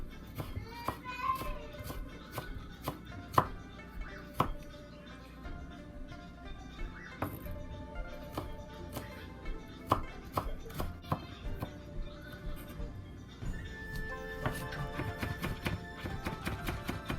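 Knife slicing ginger on a cutting board for tiger tofu, a run of crisp irregular chops and taps at close range, steady through most of the stretch with faint background sounds.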